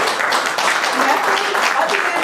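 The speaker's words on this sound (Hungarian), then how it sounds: "Egy nagy tapsot kérek." Audience applause at a Hungarian kitchen-garden event welcoming a new colleague, a steady dense wash of clapping from a crowd, loud and continuous with some voices mixed in.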